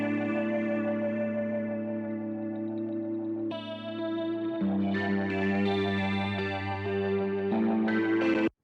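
Electric guitar through a Vox AC30 amp, layered with sampler emulation, cassette-style processing and a melting echo, plays sustained chorused chords that shift partway through, loud and up close with no talking.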